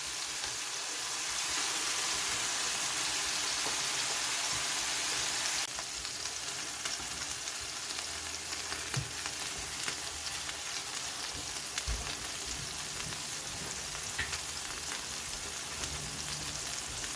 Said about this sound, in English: Alright, so I'm going to start cooking the egg here.